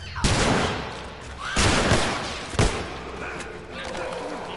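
Gunfire in The Last of Us Remastered: three sharp shots about a second apart, loud and close, over tense in-game noise and voices.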